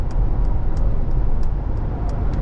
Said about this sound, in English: You can already hear the wind noises, which is quite normal inside the G-Class.